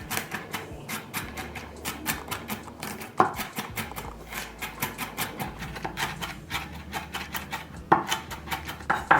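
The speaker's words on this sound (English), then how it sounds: "so you're just gonna just roughly chop everything first" Rapid, steady knife chops on a cutting board, dense rhythmic taps continuing throughout with a few louder strikes, close and alone.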